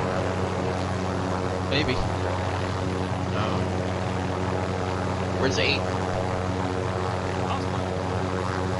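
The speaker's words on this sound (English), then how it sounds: "I can't hear you over the helicopter." A helicopter in the Warzone video game drones steadily through the whole scene with a low rotor rumble, while players talk over it.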